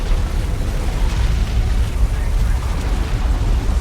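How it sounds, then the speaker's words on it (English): An orbital bombardment nuke in Warhammer 40,000: Dawn of War 2 rolls out as a loud, sustained low rumble of blast noise that fills the whole stretch without a clear break. "That was a good nuke, I think."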